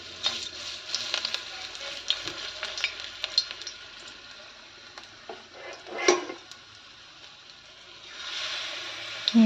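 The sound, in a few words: food frying in a hot kadai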